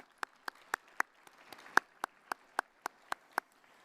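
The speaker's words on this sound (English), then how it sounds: "So could I have a round of applause," Slow, evenly spaced claps, about a dozen single hand claps, answer a call for applause for the sponsors at a live event. They sound faint and sparse rather than a full crowd ovation.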